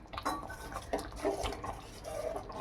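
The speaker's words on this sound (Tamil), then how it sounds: "இப்போ கொஞ்சம் நேரம் மூடி வச்சிடலாம்." Metal lid set over a pot of simmering egg curry: a few faint clinks and scrapes of metal against the pot rim, scattered over a couple of seconds in a quiet kitchen.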